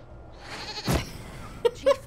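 A goat in Dragon Age: Inquisition bleats in two short, sharp calls near the end, following a whooshing rush of noise.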